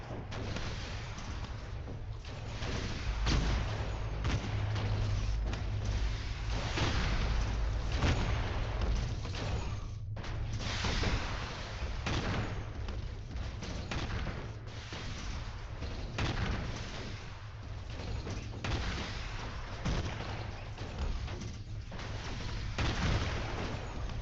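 Spaceship weapons fire steadily in the space combat game Stellar Tactics as iron, plasma, laser and heavy missile weapons trade blows, making dense repeated booms and blasts throughout with a brief gap partway through.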